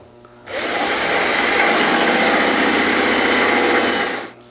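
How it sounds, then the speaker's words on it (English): A power drill fitted with a 5/16 bit bores mounting holes through a car door for a solenoid bracket in a shaved door kit install, a loud, steady high-pitched whine that runs about four seconds before cutting off. "Using a 5/16 drill bit, we're going to drill out the holes for the mounting bracket of the solenoid."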